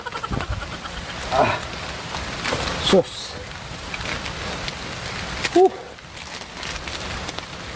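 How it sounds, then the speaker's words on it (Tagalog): Steady rain hisses across the whole clip, with a few brief voice bits and scattered louder knocks over the downpour. "Yan, lumakas yung ulan."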